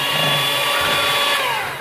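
An electric hand mixer beats eggs at medium speed, a steady loud motor whine held throughout and dipping slightly at the end, with no talk.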